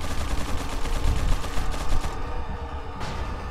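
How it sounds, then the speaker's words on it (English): Gunfire in Resident Evil 4 crackles in dense, rapid overlapping bursts with no clear gaps, then thins out toward the end, staying at a steady mid-loudness throughout. "Where is he shooting from even?"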